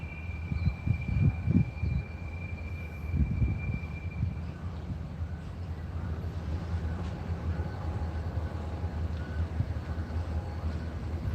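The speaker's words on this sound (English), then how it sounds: "You can see the individual cars coming down the track." Uncoupled rail cars roll one at a time down the hump into separate side tracks at the Union Pacific switching yard in North Platte, Nebraska, giving a steady low rumble with heavier surges early on and a faint high squeal.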